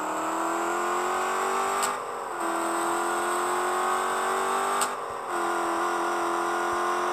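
An Audi A6 V8 quattro with straight exhaust pipes drones at a steady high-revving pitch, briefly dipping twice as the throttle eases before the engine climbs back to a sustained, loud whine.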